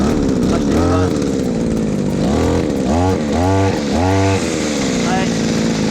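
A small two-stroke brush cutter engine idles loudly and close, then revs up sharply several times as the throttle is squeezed, rising and falling in repeated bursts before settling back to a steady idle.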